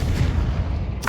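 A Confringo blasting spell in Hogwarts Legacy lands as a deep, rumbling boom that fills the whole moment, heavy low-end roar, closing with a brief bright crack.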